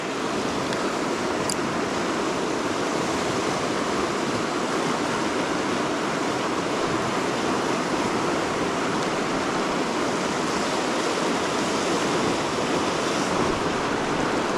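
Fast-flowing river water at a trout-fishing spot gives a steady, loud, continuous rushing roar that stays close and unbroken throughout, with no voices over it.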